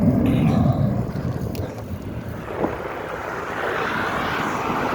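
An airplane drones steadily at a distance near the 2022 London International Air Show, a broad low rumble mixed with wind buffeting the microphone of a passing cyclist.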